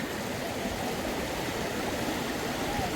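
A small stream running between hills in Odisha gives a steady, close rushing and burbling wash of water, even in level throughout with no voices.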